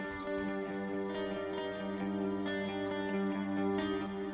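Clean electric guitar through a Marshall Valvestate 8100 amplifier, ringing chords and single notes with soft pick attacks and a wash of echo and reverb, steady and moderately loud, no talking.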